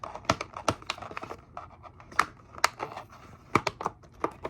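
Tape being peeled and picked off cheap plastic doll packaging, a string of sharp clicky crackles and short scratchy rips in an irregular rhythm, close up and fairly quiet, with no voices.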